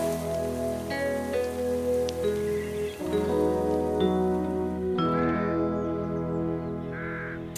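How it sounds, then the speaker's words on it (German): Steady patter of rain on a surface, with a bird cawing now and then over a layered, tonal musical background. "Oh, es fängt an zu regnen."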